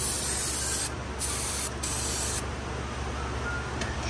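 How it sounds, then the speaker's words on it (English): Aerosol brake cleaner sprayed onto an old brake caliper from a 1998 Ford Expedition, a loud close hiss in several long bursts with brief pauses between them. "I'm just going to give these a good spray to clean out anything that might be embedded in there."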